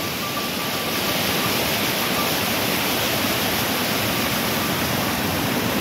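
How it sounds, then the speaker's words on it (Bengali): A monsoon waterfall at Keonjhar pours down in a dense, unbroken roar of falling water, loud and steady from start to finish. "জলটা গিয়ে পড়ছে নিচে।"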